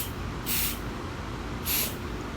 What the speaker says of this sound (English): Glue on the underside, and now I'm just gonna spray it.